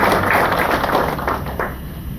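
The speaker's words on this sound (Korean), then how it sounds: "큰 박수로 맞이하시겠습니다" A church congregation claps to welcome an elder coming forward to preach, a loud burst of many hands right at the start that tapers off over two seconds.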